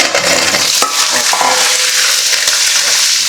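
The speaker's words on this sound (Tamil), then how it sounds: "சின்ன வெங்காயத்தை நல்லா ஃப்ரை ஆகட்டும்." Small onions (shallots) frying in oil with fenugreek for a vathal kuzhambu, a loud, steady broadband sizzle filling the whole clip with a couple of brief stirring scrapes, no talk.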